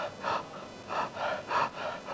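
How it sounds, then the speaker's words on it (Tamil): Deep open-mouthed breaths for a lung breathing exercise, three strong rhythmic bursts of airflow about 0.7 seconds apart, close and clear with no talking. "வாயை திறந்துட்டு மூச்சு விடுங்க."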